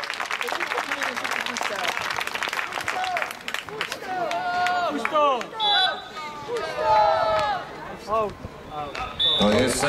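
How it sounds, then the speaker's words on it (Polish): Spectators at an outdoor beach volleyball match at the Silesia Open clap in a short burst early on. A commentator and other voices then talk over the crowd noise. "brawa dla Francuzów"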